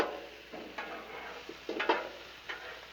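Shrimp and sausage with broccoli stir-frying on a Blackstone griddle, a soft steady sizzle broken by several short scraping stirs of a spatula, close and fairly quiet with no talk.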